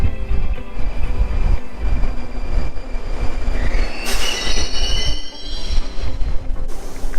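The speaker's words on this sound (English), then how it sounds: "It's our train." A Russian metro train rumbles loudly past with rolling wheel noise and a high squeal of wheels on rails partway through, no voices.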